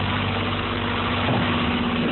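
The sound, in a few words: Isuzu Typhoon engine running with blown head gasket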